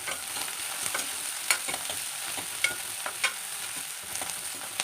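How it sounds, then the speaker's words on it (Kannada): Onions and coriander leaves frying in oil over a medium flame give a steady, close sizzle, broken by repeated scraping and clinking stirs of a spoon in the pan, with no talking. "ಈರುಳ್ಳಿ ಸೀದೋಗಬಾರ್ದು, ಮೀಡಿಯಮ್ ಫ್ಲೇಮಲ್ಲಿ ಇಟ್ಕೊಂಡು ಬಾಡಿಸ್ಬೇಕು."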